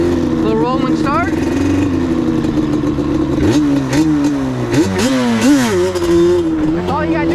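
Yamaha Banshee ATV two-stroke engine revs hard in repeated rising bursts, pulled up into a wheelie from a rolling start, loud and close throughout.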